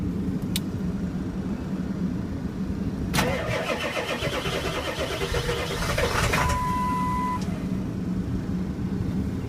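A diesel engine in a 2000 Ford F350 ambulance runs steadily in cold weather, a constant low rumble with a brief clank and a higher whining tone partway through.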